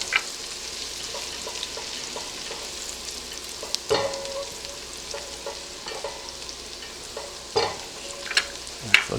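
Garlic browns in a pan while it is cooked for lobster and crab claws: a steady soft sizzle broken by scattered clinks and scrapes of a utensil, with no talking.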